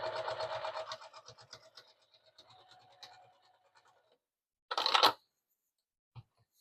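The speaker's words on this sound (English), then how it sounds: "Then slide it under the needle and sew back and forth." A sewing machine stitches back and forth across a tote bag, a fast rhythmic whir that slows and fades, then a short scratchy burst and a lone click after a pause.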